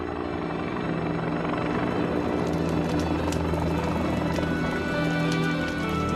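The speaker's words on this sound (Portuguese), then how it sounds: "Um helicóptero soltando napalm chamejante em gel é a maneira escolhida." Helicopter dropping flaming napalm gel over a wildfire, a steady loud rotor drone with low thudding throughout, a dense continuous wash of engine and blade noise.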